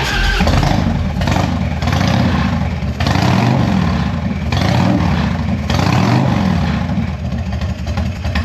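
A Harley Evo Heritage 1340 motorcycle engine runs close by with a steady, loud, rough rumble and clattering pulses, repeating in surges every second or so.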